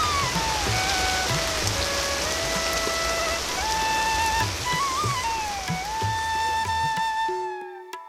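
Steady, heavy rain falls and patters continuously beneath a sustained melodic musical tone throughout.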